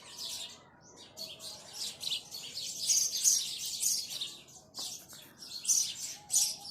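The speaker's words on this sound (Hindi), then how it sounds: "ये इतना चहचहा रही हैं इसीलिए क्योंकि ये देख रही है कि हाँ हम लोग यहाँ पे हैं" Small birds chirping around their nests in the walls of old Pinahat fort, bright rapid tweets in repeated bursts, fairly close but moderate in level, with faint background noise.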